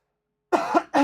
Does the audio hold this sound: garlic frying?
no